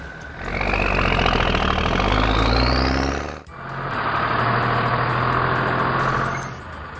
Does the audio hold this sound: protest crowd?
no